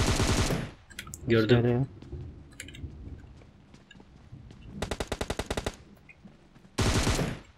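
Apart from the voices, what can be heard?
gunfire in PUBG Mobile video game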